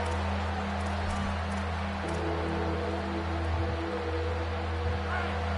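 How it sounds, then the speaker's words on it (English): A stadium crowd in a college football video game, LSU against Texas Tech, holds a steady, dense roar of cheering and noise on a third-down defensive stand, with no gaps. "Decibels rising as the crowd gets behind this defense on third down."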